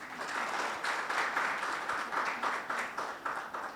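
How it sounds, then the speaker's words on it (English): Audience applause at a cardiac care conference fireside session: a steady, moderately faint wash of many hands clapping with a slight pulsing rhythm, sustained throughout without talk. "Please give him a big round of applause."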